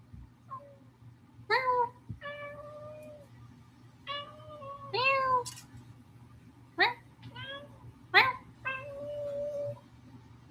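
A pet cat meows repeatedly indoors, about nine distinct calls of varied pitch spaced over several seconds, close and prominent above a low background hum.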